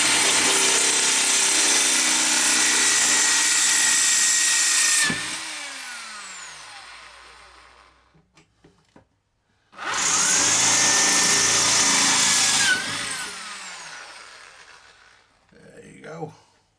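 A power drill runs in two long, loud steady bursts of about five seconds each, with a quiet gap between and brief clatter at the end, while holes are drilled during installation of a CB radio power supply.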